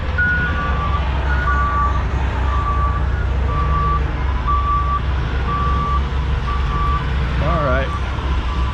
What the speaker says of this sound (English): See all the activity of the residential trucks dumping all in here.